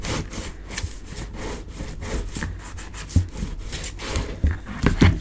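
A paper craft piece is rubbed firmly from the inside, giving quick repeated scratchy strokes with a few sharper taps near the end.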